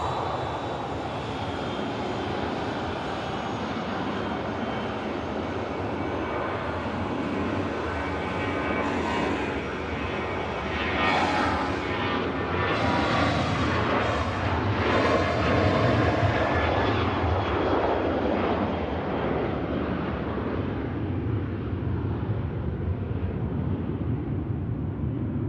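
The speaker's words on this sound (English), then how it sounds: "this Ryanair departing to Dublin" A Ryanair jet airliner departs Manchester for Dublin, its engine roar building into a loud, sustained rumble that swells in the middle and stays strong to the end, with no voices.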